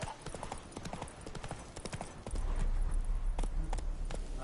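Hooves of Roach, a horse in The Witcher 3: Wild Hunt, clip-clop in a quick steady rhythm, then a heavier low rumble comes in partway through, with no voices over the sound.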